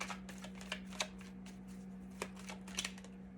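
Tarot cards being shuffled gives faint, intermittent riffling snaps and light paper clicks in short clusters over a quiet room with a low electrical hum, and no one speaks.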